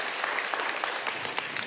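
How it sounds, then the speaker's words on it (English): Church congregation applauding during a Sunday service, a brisk, dense burst of many hands clapping that fills the space, loud and continuous with no voices on top. "give them one more big hand clap."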